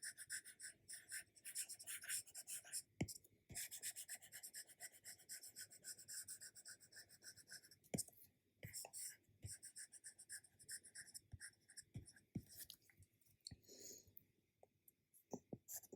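Chalk or marker scratching across a lecture-hall board in long raspy strokes, with brief pauses and a few sharp taps as it meets the surface, fairly quiet and near, with no talking.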